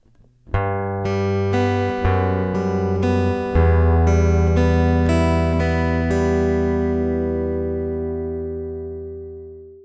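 A fingerpicked acoustic guitar plays a steady pattern from a song, about a dozen plucked notes in sequence, then lets the final chord ring out and fade.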